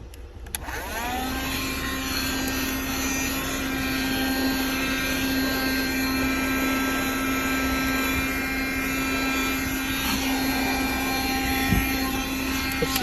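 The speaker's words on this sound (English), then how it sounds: "now, more vacuuming" A 1973 Dynamic handheld car vacuum runs steadily while cleaning a car, its motor giving a loud, continuous whine with a constant hum underneath and no talking.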